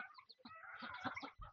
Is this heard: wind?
no